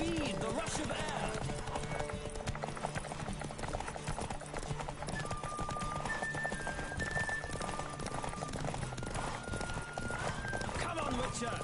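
Steady clip-clop of a horse galloping in The Witcher III: Wild Hunt, continuous and fairly close, with a whinny early on and a busy layer of game music and effects.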